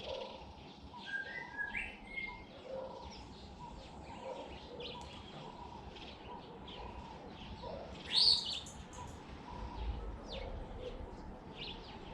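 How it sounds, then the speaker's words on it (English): Birds chirp outdoors at a home in Heidelberg, Gauteng, South Africa, giving scattered faint tweets and one brief sharper call over a steady background hum, with no talking. "And the birds flew away up on the rise."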